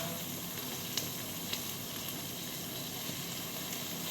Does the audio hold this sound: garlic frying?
yes